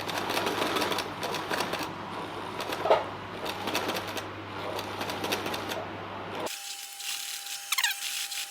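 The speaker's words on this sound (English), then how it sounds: "I'm going to sew over that." A sewing machine stitching a seam on a waxed canvas box bag runs in rapid close mechanical bursts, then stops abruptly, leaving a quieter tone and a few faint squeaks.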